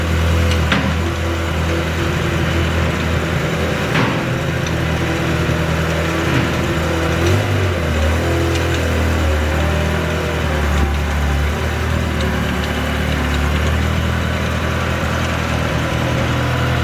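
A Ferrari F355 Spider V8 fitted with a Capristo exhaust runs steadily at a close, loud idle with slight rises in revs, a continuous low engine drone throughout and no talking.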